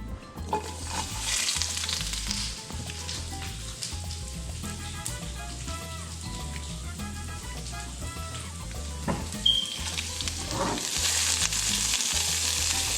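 Chopped onions sizzle in hot oil in a pan for pozole rojo sauce, a dense, steady crackling fry with occasional stirring clatter, close and continuous without speech.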